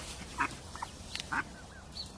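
A wild duck and her eight ducklings in a back garden in the UK give several short, faint quacks and peeps in a scattered rhythm over quiet outdoor background noise.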